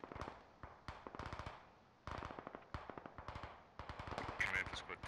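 Rapid bursts of automatic and single-shot gunfire in the military shooter game Squad, volleys crackling in quick rhythmic strings from mid-distance, broken by brief pauses and dense toward the end.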